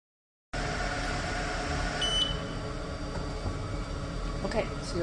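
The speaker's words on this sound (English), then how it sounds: "you'll see it beeps when it's done and says it's complete." An xTool F1 portable laser engraver gives one short, high beep when its job finishes, heard partway through over a steady fan-like hum.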